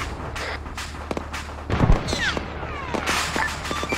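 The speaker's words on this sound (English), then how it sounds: "was that what that huge explosion was just now" A heavy boom with a deep low thump bursts out midway through an Arma 3 military combat mission, set among scattered distant gunfire-like cracks and faint background movement.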